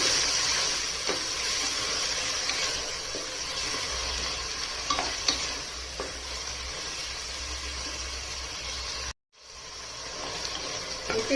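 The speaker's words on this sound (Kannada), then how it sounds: "ಮೆಕ್ಕೆಜೋಳ ಹಾಕಿದ ಮೇಲೆ ಒಂದು ನಿಮಿಷ ಈ ಥರ ಚೆನ್ನಾಗಿ ಹುರಿರಿ" Lentils and corn frying in a pan while being stirred, a steady close sizzle with scraping strokes throughout, briefly cut off near the end before the sizzle resumes.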